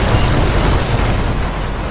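A bomb blowing up in the video game GTA 5, a loud, heavy explosive boom with a rumbling, noisy tail that slowly fades over two seconds, with no talking.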